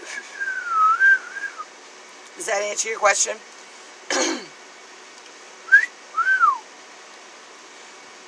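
A person whistles a short wavering tune, then pauses while speaking and clearing their throat, and then whistles two more brief rising-and-falling phrases, close to the microphone.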